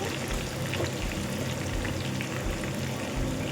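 Onions frying in hot oil for biryani, a dense, steady sizzle and crackle filling the whole moment, close and loud with no voices.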